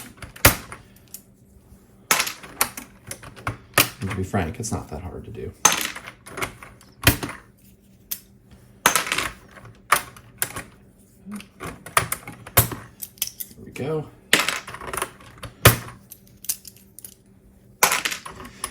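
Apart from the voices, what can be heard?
cleaning the keys of an Atari 1040 STe keyboard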